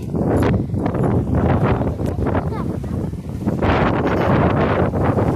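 Strong gusts of wind buffet the microphone outdoors in the dark, a loud, continuous low roar that swells and dips without a break.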